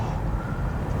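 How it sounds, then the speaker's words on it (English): BMW M850i xDrive V8 coasting down, a steady low rumbling drone heard from inside the car, fairly loud and even, with no talking. "because of this raw V8 sound"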